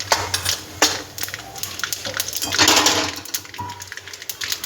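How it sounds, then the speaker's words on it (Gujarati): Mustard seeds, cumin and asafoetida hitting hot oil in a pan, giving a loud crackling sizzle mixed with sharp utensil clatter and a swelling hiss near the middle. "રાઈ નાખી, આ થોડુંક જીરું, આ થોડીક હિંગ નાખી દીધી"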